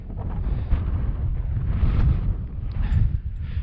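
Strong wind buffets the microphone on a snowy winter mountain summit, a continuous loud low roar with gusts rising and falling, alone without talking.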